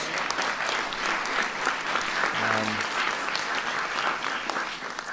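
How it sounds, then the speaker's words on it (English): A large audience applauds at a science-fair event, steady dense clapping filling the room throughout, with a brief low tonal hum partway through. "Give him a big round of applause."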